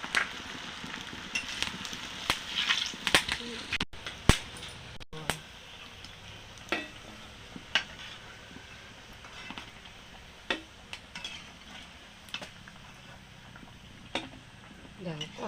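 Pieces of sooji being fried in hot oil for sujir ros puli, with a steady crackle and scattered small pops and sizzles running throughout, close and moderate in level.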